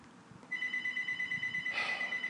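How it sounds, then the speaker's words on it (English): A telephone rings indoors, a bright electronic trill starting faintly then growing louder and repeating in quick pulses, heard alone without talk. "Oh, why is the phone ringing?"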